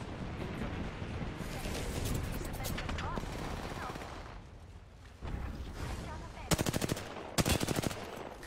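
Rapid bursts of automatic gunfire in the Apex Legends video game, sustained crackling volleys through the first half, then two sharp, loud rattling bursts near the end over a dense game mix.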